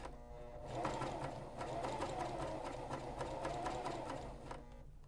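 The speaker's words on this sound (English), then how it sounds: "I'm actually gonna line up the fabric with the end of the needle plate and then just start stitching away" A Janome CoverPro 1000CPX coverstitch machine runs steadily through fabric, its rapid, even needle strokes forming a rhythmic mechanical whirr from start to finish.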